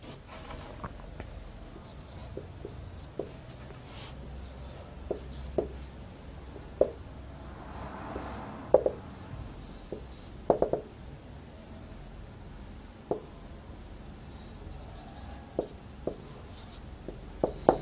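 Marker or chalk writing Urdu word meanings on a board in a classroom lecture, with steady faint scratching and sharp taps scattered throughout.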